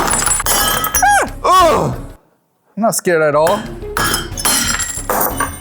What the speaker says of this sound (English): now I have the broken glass